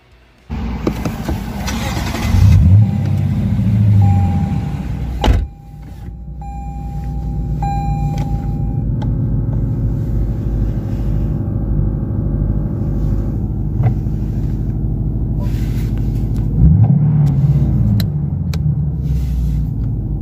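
A 2020 Lexus RC 350 F Sport coupe engine cranks and catches with a loud roar, revs sharply a couple of times, then settles into a deep, steady idle rumble before another brief rev.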